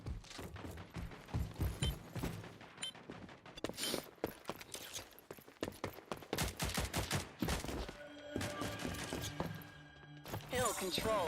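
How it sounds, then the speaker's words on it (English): Rapid sharp shots and mechanical clanks from Titanfall combat, including shotgun fire from a Scorch, crack out in dense irregular bursts throughout, with people talking at times in between. "Is the Scorch running a shotgun?"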